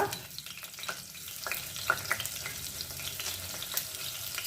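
Fennel seeds and ginger sizzle and crackle in hot oil in a pan, giving a quiet, steady frying hiss broken by small pops and a little stirring.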